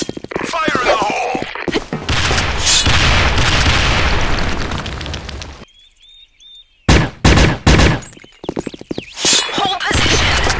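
Video game combat: a loud grenade explosion booms and rumbles for several seconds, then after a short silence sharp bursts of gunfire crack in quick succession, close and loud.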